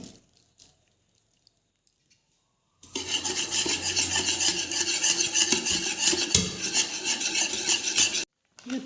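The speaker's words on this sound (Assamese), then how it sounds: "মই আটা সানি লওঁ" Flour dough for jackfruit pitha, mixed with jackfruit juice and sugar, is kneaded by hand in close, continuous squishing and rubbing strokes that begin after a quiet start and run for about five seconds.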